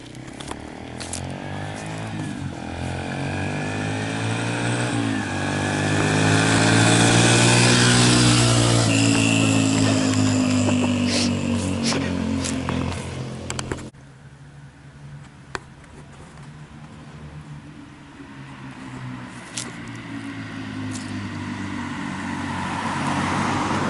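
A 125cc motorcycle carrying two riders revs and passes close by, engine note climbing to a loud peak then fading away, leaving distant engine and ambient noise.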